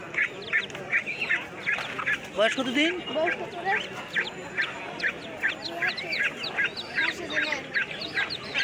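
Ducklings at a poultry market in Netrokona, Bangladesh, peep and quack in a steady rapid chatter throughout, close and fairly loud, while people talk over them.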